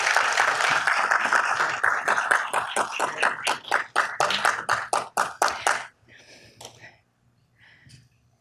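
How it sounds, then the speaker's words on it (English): A city council chamber audience applauds youth commissioners, a dense burst of clapping for about six seconds that thins into a few scattered claps and then quiet. "Big round of applause for these youth commissioners."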